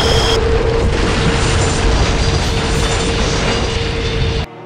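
An animated fighter jet explodes: a loud, dense roaring blast with rattling, mechanical crackle sustained for several seconds before stopping suddenly.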